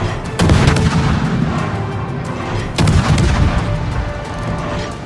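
Anti-aircraft guns blazing aboard the warship Öland in a naval combat game, two loud booming volleys a couple of seconds apart, each trailing into rumbling continuous fire, close and heavy with no talk.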